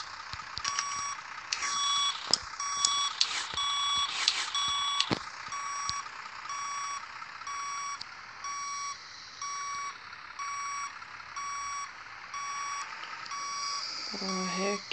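Steady, repeated reversing beeps from a truck backing up in Grand Truck Simulator, sounding loud and close with a few sharp clicks near the start and a soft engine hum underneath.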